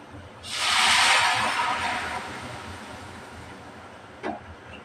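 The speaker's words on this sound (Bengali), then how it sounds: "ফোড়নটাও ভালোভাবে ভেজে নিচ্ছি ডাল রান্না করলে ফোড়নটাও ভালোভাবে ভেজে নিতে হয়" Spices frying in oil for a lentil dal tempering give a sudden loud sizzling hiss that swells and slowly fades over a few seconds, with a small clatter near the end, close and without talk.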